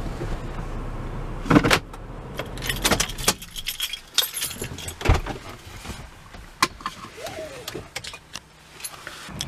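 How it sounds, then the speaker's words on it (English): Car switched off at night beside a cemetery, then keys jangle in a series of close metallic rattles and clinks, with scattered handling knocks and a brief quiet voice. "Let's cut the car off."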